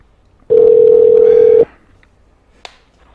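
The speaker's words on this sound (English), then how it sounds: "is that the phone?" A telephone dial tone while placing a call: one steady, loud electronic tone lasting about a second, then quiet with a single faint click shortly after.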